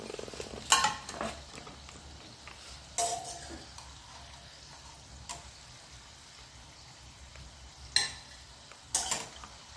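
Khawa modak frying in hot oil, a low, steady bubbling sizzle broken by several louder scraping clatters of a spoon or slotted ladle against the pan.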